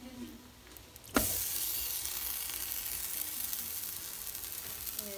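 Lahmacun sizzles in a pizza pan at home, a steady crackling fry that starts abruptly and continues evenly, fairly soft, with no speech over it.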